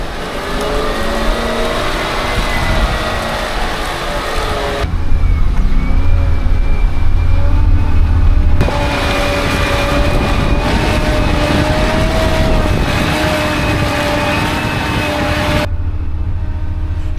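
Toyota LandCruiser 4WD engine labouring slowly up a slippery bush track, a loud steady drone with tonal engine whine, the revs shifting in several abrupt sections.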